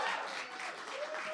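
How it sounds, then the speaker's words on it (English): Audience applause from a live crowd at an evening open music session of local talent in Denver, steady clapping throughout, fairly loud and continuous with no break. "give yourselves a round of applause"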